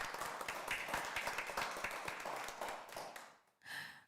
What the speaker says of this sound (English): Yes, we'll give them a round of applause.